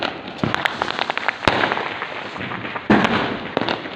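Diwali firecrackers go off with sharp pops and cracks, some loud bangs close by and many smaller crackles further off, spread irregularly over a continuous festive background hiss.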